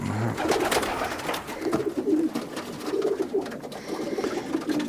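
Soft, repeated racing pigeon coos close by in a loft, a low throaty burbling that rises and falls in a steady rhythm.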